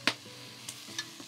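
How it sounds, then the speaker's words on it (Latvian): Onions frying in a hot pot outdoors, heard up close as a soft, steady sizzle broken by a few brief scraping clicks, with no voices. "Temperatūra ir augsta un viss cepās."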